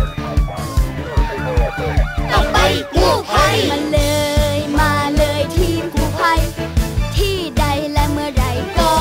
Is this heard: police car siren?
yes